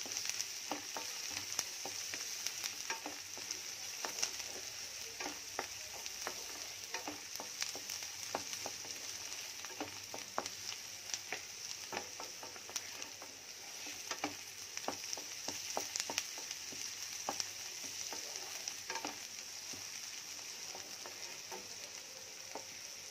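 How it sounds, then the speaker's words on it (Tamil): Crushed garlic and ivy gourd sauté in a hot pan for a stir-fry, a steady soft sizzle punctuated by frequent light scrapes and taps of a stirring spoon, close and unbroken throughout. "அதை இப்போ சேர்த்துக்குங்க. இது எல்லாத்தையும் ஒன்றா வதக்குங்க."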